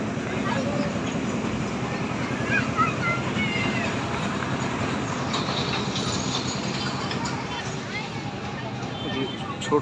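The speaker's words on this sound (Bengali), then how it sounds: "টয় ট্রেনটা ছেড়ে দিল" A toy train ride at a children's park in Malda gives a steady, rumbling rattle of wheels and cars that runs without a break, with voices talking over it.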